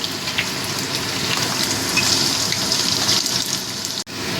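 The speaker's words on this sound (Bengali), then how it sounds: "আমি আলুর টুকরোগুলো দিয়ে দিয়েছি এবার এগুলোকে একটু লাল লাল করে ভেজে নেবো" Potato pieces fry in hot oil with whole cumin seeds for a coconut banana-flower ghonto, giving a dense, steady sizzle that holds close and loud throughout with no talking.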